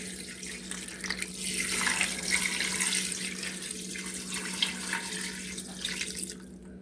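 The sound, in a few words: pouring liquid around edge of Instant Pot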